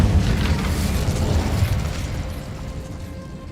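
In Hogwarts Legacy, an Incendio fire spell bursts with a loud, broad roar that slowly fades into a rumbling tail, with no voices over it.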